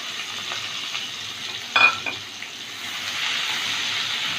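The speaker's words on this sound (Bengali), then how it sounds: "পেঁয়াজটা একটু ভেজে নেব।" Chopped onion fries in hot oil with whole garam masala, giving a steady close sizzle. A sharper stirring clatter cuts in just before the two-second mark, with no voices.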